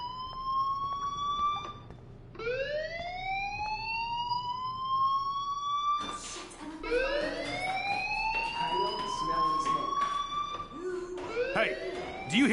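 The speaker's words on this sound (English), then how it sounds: "do you hear that fire alarm?" A fire alarm wails in rising, repeating sweeps, several long climbing tones that keep restarting and overlapping, loud and insistent, with busy background noise beneath.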